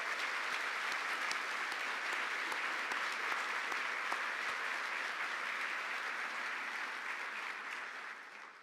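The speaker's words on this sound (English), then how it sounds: "So let's give High Point University a round of applause" Sustained applause from a large crowd at a closing presentation, dense and even throughout before tapering off at the end.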